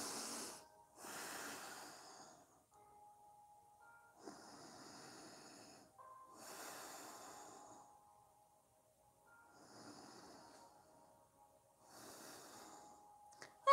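Slow, deep yoga breaths during a seated spinal twist, long inhales and exhales alternating in a steady unhurried rhythm, close and soft with quiet pauses between each breath.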